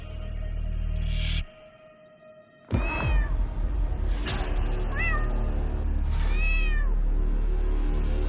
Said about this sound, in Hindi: बिल्ली पाल रखी है आपने तो